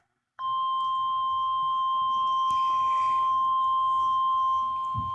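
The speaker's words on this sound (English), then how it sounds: "Another EAS, marine warning." Emergency Alert System marine warning for the Pensacola, Florida to Pascagoula, Mississippi coast: a loud, steady two-tone electronic alert that holds continuously for about five seconds, with faint background noise beneath.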